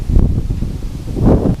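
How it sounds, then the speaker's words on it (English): Gusty wind buffets the microphone in low, rumbling bursts, with leaves rustling close by outdoors. "It's so windy."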